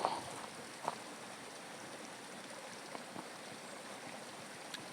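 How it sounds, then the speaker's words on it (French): Water of the salt river flows in a soft, steady outdoor wash, faint and continuous, with a few small splashes or clicks near the start. "La rivière du sel."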